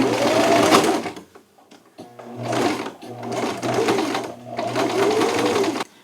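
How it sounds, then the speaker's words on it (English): A sewing machine runs close by, stitching shirt fabric in several bursts of rapid stitching, its steady mechanical whir stopping briefly between runs. "On my sewing machine, I'm going to keep sewing"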